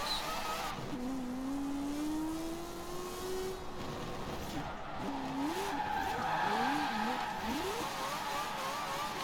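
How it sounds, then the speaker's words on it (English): Drifting car in Forza Horizon 4, a tuned RX-7 Spirit R, squealing its tires in long wavering whines that bend and rise over steady engine drone, with several quick squeal bursts near the end. "Brake drifting kind of works."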